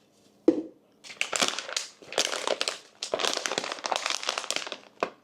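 A sealed package of chlorella tablets being opened close up, with one sharp snap followed by several seconds of loud crinkling and crushing of plastic packaging in bursts.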